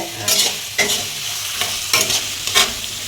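Chopped onion frying in a pan: close, steady sizzle broken by repeated scraping stir strokes roughly every half second to second, with no voices.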